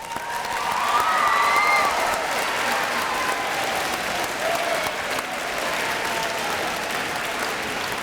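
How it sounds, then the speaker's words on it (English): Applause from an audience of parents at an 8th grade promotion ceremony, full and sustained throughout, with faint cheers and a few voices mixed in. "So give yourselves a round of applause."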